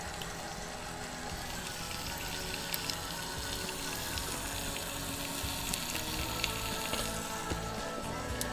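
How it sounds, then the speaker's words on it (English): Sausage sizzling in a pan inside a van in winter, a dense, steady crackling hiss that fills the whole stretch with small pops scattered through it, fairly close and continuous. "I think you may hear my sausage starting to sizzle."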